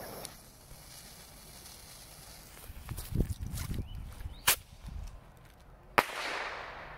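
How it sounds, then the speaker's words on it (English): A TNT bottle rocket firework is set off outdoors, with a few quiet thuds and rustles followed by two sharp, brief cracks a short distance away against a faint background. "All right, here goes a TNT bottle rocket."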